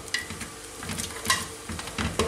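Peas and garlic frying in a pan, with a close, crackling sizzle and irregular scraping stir strokes throughout.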